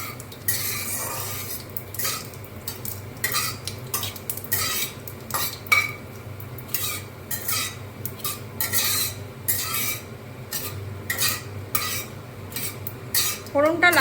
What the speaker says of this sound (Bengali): তেলটা গরম হয়ে গেছে, এবার তেলে আমি ফোড়নটা দিয়ে দেব। ফোড়নটা একটু লাল লাল করে ভেজে নেব।